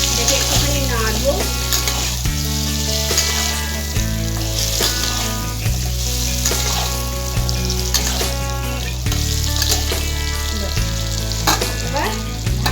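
Mutton kosha with potatoes sizzles loudly in a pan, with continuous frying crackle, repeated scraping stirs, and a low steady hum underneath.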